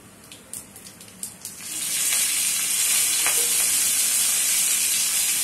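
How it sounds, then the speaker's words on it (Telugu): Curry leaves hit hot oil in a pan after a few light clinks, then sizzle in a loud, steady, close frying hiss that holds to the end, with no talk. "చూడండి ఈ విధంగా బాగా వేపుకున్నాం ఇప్పుడు కొద్దిగా కరివేపాకు వేసుకోవాలి"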